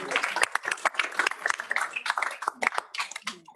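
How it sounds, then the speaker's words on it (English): Audience applause at a charity awards gala, a dense patter of claps from a nearby crowd that swells and thins over a few seconds with no one speaking. "Give yourselves a round of applause."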